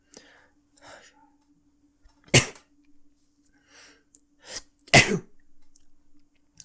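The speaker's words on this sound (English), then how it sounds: "sorry, I had to sneeze." Two sharp, loud sneezes burst out a few seconds apart, with soft breathy sounds and faint murmurs in between.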